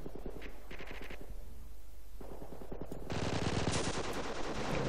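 Rapid bursts of automatic gunfire aimed at a sniper in the World War II strategy game Company of Heroes, crackling in clustered volleys that swell louder and denser toward the end.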